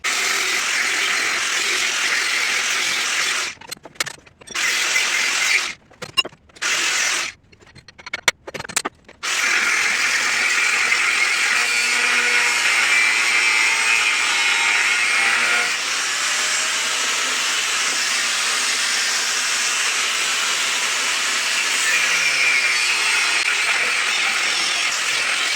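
Steady mechanical grinding rasp of a power saw cutting a section of steel bar stock for a sword blank, running loud and continuous with a few brief stops early on before settling into a long unbroken cut.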